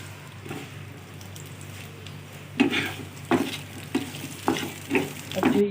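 Roughly chopped onion frying with garlic, ginger and three almonds for Hyderabadi chicken masala, soft sizzle under irregular stirring scrapes and clinks of a spoon against the pan.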